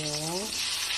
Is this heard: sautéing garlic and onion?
yes